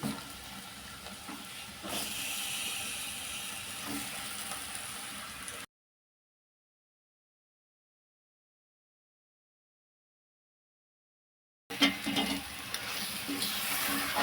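Fish curry with tamarind, Godavari style, stirred with a wooden spatula in a pan, giving a steady sizzling, scraping stir that stops for a gap of silence and then resumes.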